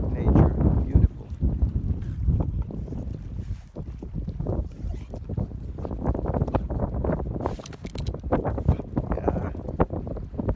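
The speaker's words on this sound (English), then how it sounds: "The wind makes it much more colder than it actually is" Wind on a lake outdoors in Finnish nature buffets the microphone continuously, loud low rumbling gusts with scattered clatter, and no clear talk.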